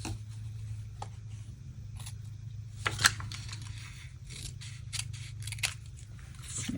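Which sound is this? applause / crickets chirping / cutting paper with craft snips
cutting paper with craft snips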